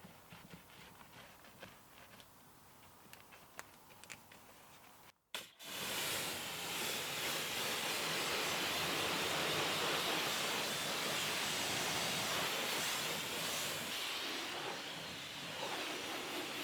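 Water spray rinses down a dirty Hyundai Tucson N Line during an exterior detail. After a few faint clicks, a loud, continuous hissing rush of water starts and holds steady to the end.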